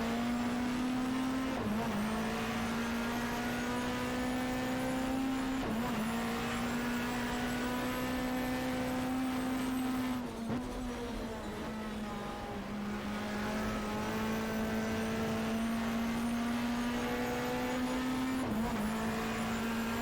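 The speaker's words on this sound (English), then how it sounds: "letting you have a listen to these super tourers in anger" A BTCC Super Touring race car engine in the GTR2 video game screams at high revs through repeated gear shifts, its sustained whine dipping briefly between gears. It is loud and continuous, with no talking.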